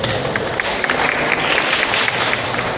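Dense, steady applause from the audience at a cooperative's annual members' meeting in Wado market, Sumedang, filling the hall loudly and evenly throughout.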